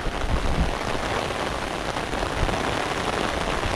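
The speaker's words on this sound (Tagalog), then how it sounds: "Sobrang lakas ng ulan, sobrang lakas po ng agos." Heavy rain pours down steadily over a fast-flowing river during a typhoon, a dense, loud, continuous hiss of drops with no talking.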